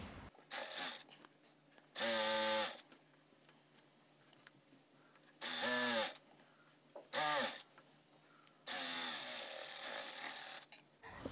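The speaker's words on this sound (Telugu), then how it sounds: "ఇప్పుడు ఈ బెల్ట్ అంచు అంటే స్టిచ్ చేసేయడమే." Sewing machine running in several loud bursts of steady mechanical stitching as it sews along the edge of a narrow pant front belt, with quieter pauses between the runs.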